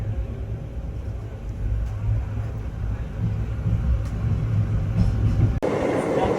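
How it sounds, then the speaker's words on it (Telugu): Heavy rolling rumble from the Narasapur–Hubli Amaravathi Express as it runs parallel to another train and overtakes it. The steady, close, dense roar continues throughout, with a brief abrupt shift near the end. "ఆ ట్రైన్ని మన ట్రైన్ ఓవర్టేక్ కొడుతుంది"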